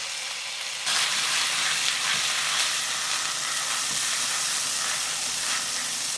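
Onions and garlic sauté in a pan for lumpiang togue, a loud, close, hissing sizzle that suddenly surges as the ingredients hit the hot oil and then continues strongly and evenly.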